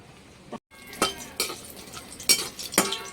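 Bori lentil dumplings frying in a wok while a spatula stirs and scrapes, sharp metallic clinks and scrapes recurring over a soft steady sizzle, close and fairly quiet.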